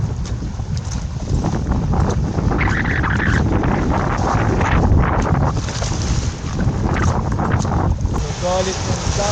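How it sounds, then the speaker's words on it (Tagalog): Rough sea and strong wind around a small fishing boat in sudden bad weather, heavy wind buffeting the microphone over churning, splashing waves and a rumbling engine, continuous and loud. "sa Rough Sea."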